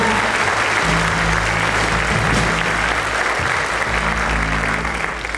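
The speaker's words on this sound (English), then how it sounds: "Give them a big round of applause." Loud, dense applause from the audience at a 1998 high school jazz and honors spring band concert, sustained and even throughout, with a low hum underneath.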